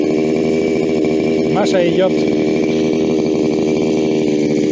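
Motorized grass trimmer roars loudly and steadily close by in a village setting, with a brief voice cutting through the engine noise.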